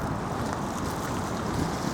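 Wind and surf roll in at Southport pier, a dense, steady wash of ocean waves with wind buffeting the microphone, constant and fairly close throughout with no voices.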